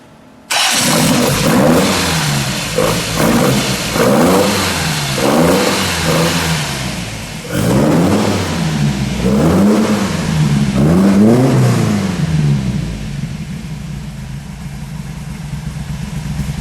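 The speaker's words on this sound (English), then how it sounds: "John, let's start her up." A 1965 Maserati OSCA 1600 GTZ Zagato engine with four Weber carburettors fires up and revs loudly close by, its pitch rising and falling in repeated swells before settling back toward idle.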